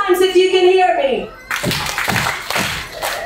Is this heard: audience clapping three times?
yes